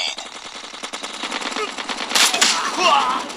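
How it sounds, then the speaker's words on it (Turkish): Rapid automatic gunfire in a shooting video game, a close, loud continuous rattle of shots with a brief voice underneath. "Adamı vurdum o da beni vurdu."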